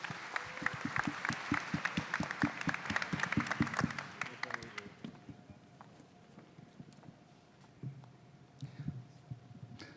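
Audience at the Gusi Peace Prize ceremony applauds Dr. Igor Kondrashin, a burst of clapping for about five seconds that then fades, leaving a quiet hall with faint footsteps and shuffling.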